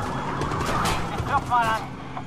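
Police SUV siren during a chase in the Watch Dogs video game, a wailing tone rising under dense game noise and engine rumble, moderately loud and partly masked.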